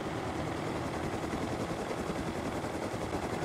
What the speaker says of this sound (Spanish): Neptune, estoy manejando mi primer helicóptero, güey.